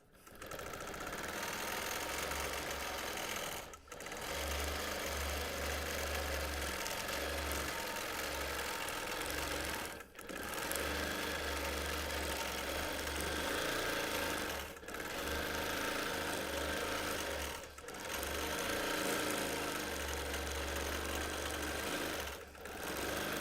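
A sewing machine runs steadily through free motion quilting on a T-shirt quilt, a close, continuous rapid mechanical whir broken by brief pauses every few seconds.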